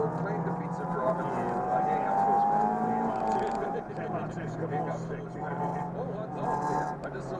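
Race cars roar through a racing video game session, several engines droning and shifting pitch as they jostle for position, a steady loud bed of engine noise with commentators talking over it throughout.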